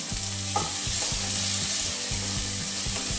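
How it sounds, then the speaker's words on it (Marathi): Onion and tomato with salt cook in a pan for soybean bhurji, a steady bright sizzle under rhythmic scraping stir strokes that repeat in short bursts, close and even, with no talking. "कांदा आणि टोमॅटो पूर्णपणे मेल्ट झाले पाहिजे"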